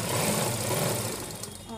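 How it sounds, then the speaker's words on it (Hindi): A sewing machine stitches a midi dress in a steady, continuous whir that holds at an even level for the whole stretch, with no voices over it. "यहाँ से हमने सिलाई लगाना स्टार्ट करी"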